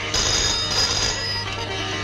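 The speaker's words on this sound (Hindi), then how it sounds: "जरूर अमर का फोन है" A telephone rings with a steady, bright electronic trill that holds for about two seconds over a low background hum, in a scene from a 1983 Hindi romantic film.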